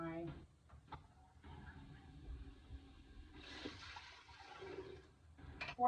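Chicken stock pours into a pot of softened onions for pumpkin soup, a steady liquid splash and trickle lasting a couple of seconds, close by, with a person talking over parts of it.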